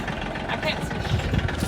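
A tractor engine rumbles steadily while pushing an old 1976 squarebody truck that hasn't run in 20 years, a close, mid-pitched idle-like drone with no one speaking.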